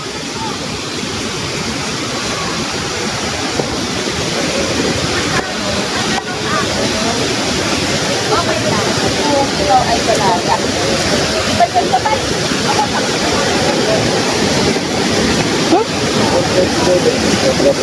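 Taytay Falls in Majayjay, Laguna roars as a steady, loud broadband rush of falling water, continuous and close throughout with a faint voice underneath.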